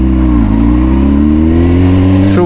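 A 2005 Honda CBR600RR engine revs loud and close on a test ride on twisty roads, its pitch dipping briefly, then climbing steadily, before dropping sharply at the end.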